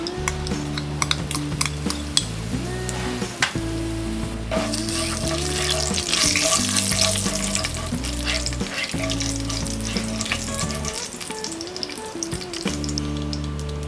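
Cumin seeds and asafoetida sizzle in hot oil and ghee in a pan for a tricolour pulao, a continuous close frying hiss with occasional utensil clinks and stirring, over steady background music.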